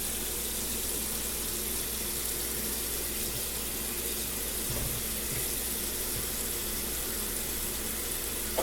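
Water poured from a tap into a stock pot over picked dandelions for jam, a steady, moderately loud gushing fill that runs continuously without speech.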